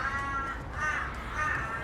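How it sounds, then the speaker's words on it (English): Crows caw outdoors in three drawn-out, rasping calls spaced about half a second apart, moderately distant and fairly quiet, with no talking. "The crows will not shut up."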